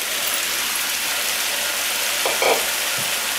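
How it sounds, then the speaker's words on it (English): Spinach wilting in a hot pan of sesame beef stir fry with broccoli and green onions, a steady near sizzle and frying hiss throughout with a few brief stirring clatters near the end. "Now I'm adding in about 4 cups of spinach."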